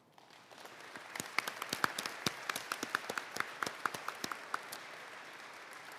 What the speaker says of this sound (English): give a round of applause to thank the teachers and the counselors and the other personnel of this school